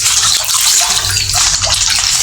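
Water runs from a tap into a concrete catfish pond, a loud steady splashing and hiss without a break.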